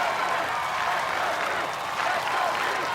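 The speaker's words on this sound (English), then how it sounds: "And now he's leading the Let's Go Drew chant." A packed arena crowd at the American Ninja Warrior season finale chants for a competitor, a loud, dense, continuous roar of many voices that holds steady throughout.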